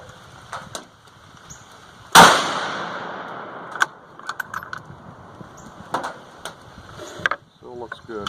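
A single sharp, loud 450 Bushmaster rifle shot cracks close by, firing a 200gr FTX handload over 41 grains of Hodgdon H110, with a decaying tail. Quieter clicks and handling noises follow, and a person speaks around it.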